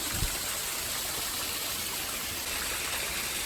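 A waterfall and stream rush over mossy rocks in the rain, a steady broadband gush that stays close and constant throughout with no voices.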